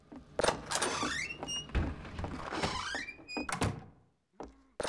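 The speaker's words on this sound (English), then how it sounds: "Opening a door." A door opening in Half-Life 2, a series of mechanical clunks and rising whirring slides, loud and close, followed by a short silence and a final thud.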